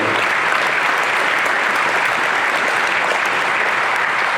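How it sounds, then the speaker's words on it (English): An audience at an Ozarks area racers foundation hall of fame induction breaks into sustained applause, a dense, even wash of many hands clapping at steady loudness without a break. "So I want to let a round of applause on that"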